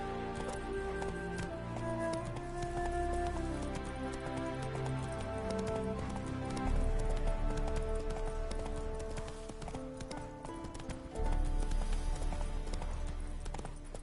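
Horse hoofbeats from The Witcher 3 as the horse Roach gallops, a steady fast clip-clop rhythm over a dense bed of game music, close and loud for the whole stretch.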